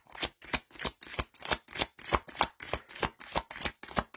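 Tarot cards being shuffled in steady, even riffles, about a dozen crisp bursts in a regular rhythm, close and clear, with no voices.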